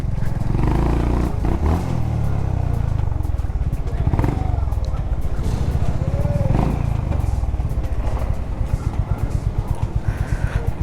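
A superbike at a petrol pump during a big city superbike meetup, its engine rumbling loudly and steadily with rough low throbbing and occasional rises, close by, with people talking faintly underneath.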